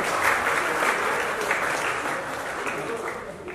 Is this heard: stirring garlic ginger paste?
no